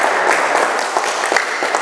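A church congregation gathered at the Yonif 303 battalion base in Garut cheers for God with dense, steady clapping that fills the room at close range without letup.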